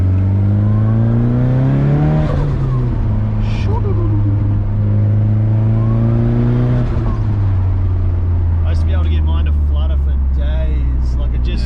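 Nissan S15 Silvia with its stock turbo engine driving, a loud, steady in-cabin engine drone that rises and falls with revs and gear changes, with short turbo flutter, while people talk over it.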